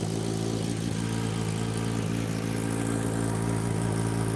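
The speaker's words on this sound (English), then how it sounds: "And a little rev would be great, if you wouldn't mind, John." A mid-sized engine rumbles steadily and revs a little, loud and close throughout.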